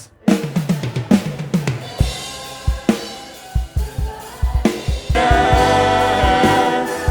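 A drum kit with a gritty, distorted tone plays punchy kick and snare hits in a driving pattern, then a thick sustained wash of cymbals takes over.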